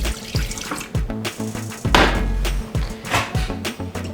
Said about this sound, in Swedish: Häller vi över lite utav mjölken.